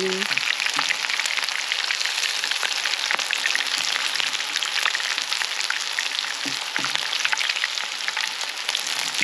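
Crappie fish fillets fry crispy in a pan, giving a dense, steady sizzle that stays close and loud from start to finish with no talking.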